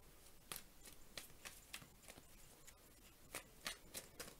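Tarot cards are shuffled by hand in a quiet room, a series of faint crisp riffling snaps at irregular intervals.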